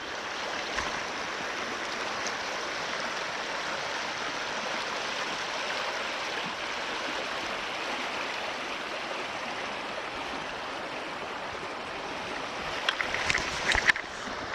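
The Plenty River in Plenty Gorge Park flows at a dropping level, giving a steady broadband rush of water that stays even throughout, with a few brief nearby clicks and knocks near the end.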